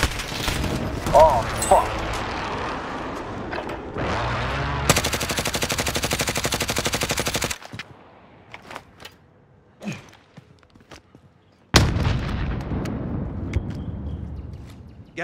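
Video game gunfire sounds in loud bursts of rapid automatic fire and single shots, with abrupt cuts between sections and near booms, while someone shouts briefly over it.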